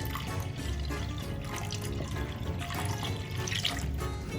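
Warm tap water pours steadily into a bowl with yeast for pita bread dough, a continuous close splashing and trickling with no speech.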